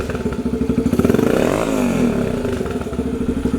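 A Yamaha TTR125 dirt bike with the exhaust baffle removed idles close and loud, its single-cylinder putter rough and rapidly pulsing, with a brief rise in the middle, then settles back to a steady idle.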